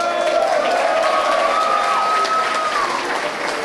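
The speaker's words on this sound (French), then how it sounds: "On l'applaudit." A crowd applauds loudly and continuously at a political party anniversary speech in London, dense clapping mixed with cheers and a rising whoop, filling the hall throughout.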